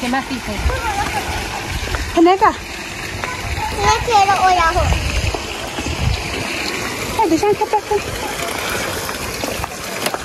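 Fresh water runs over stones into a pool at a hill resort, a continuous splashing flow heard from nearby while people talk over it.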